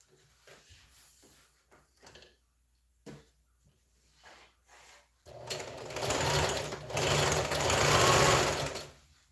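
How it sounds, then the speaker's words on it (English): A sewing machine stitches the bottom seam of an Ankara and denim bag, first a few short bursts of stitching, then a longer steady whirring run that grows louder, close and alone without talk. "I'll be stitching this bottom part at 1/2 inch"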